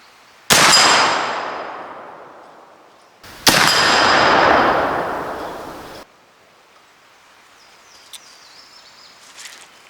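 Lyman Great Plains muzzleloader rifle firing a 230 grain round ball at a steel plate about 70 yards downrange: two loud booming shots with long rolling echoes, then a faint distant metallic ring.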